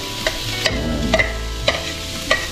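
Garlic, green chilies and onion sautéing in hot oil in a pan, with a loud continuous sizzle and a few sharp scraping clicks of a utensil stirring through them.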